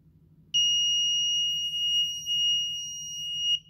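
The buzzer on a DIY Arduino weather station sounds a single steady, shrill tone for about three seconds over a faint low hum, then cuts off.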